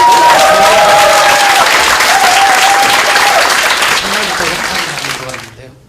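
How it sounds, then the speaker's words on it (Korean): A studio audience at a Korean talk show applauds loudly and steadily for about five seconds, with the clapping tapering off at the end. "박수 쳐주세요!"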